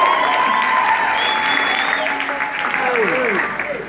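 A big round of applause from an event crowd, sustained clapping mixed with cheering and whooping voices rising over it, loud and close throughout.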